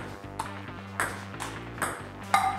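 A frying pan used as a paddle smacks a ping-pong ball during a doubles table-tennis match on a Japanese variety show, giving five sharp, bright pings spread over the stretch above a steady background music bed.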